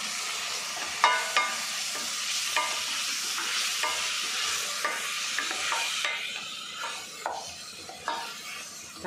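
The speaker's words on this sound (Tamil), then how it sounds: "தக்காளி நல்லா எண்ணெய் பிரிகிற அளவுக்கு நல்லா வதக்கணும்" Two chopped tomatoes sautéing in oil with ginger garlic paste for Dindigul-style chicken biryani: a steady, close hiss of frying runs throughout, broken by repeated scraping and clinking as the pan is stirred. No one speaks.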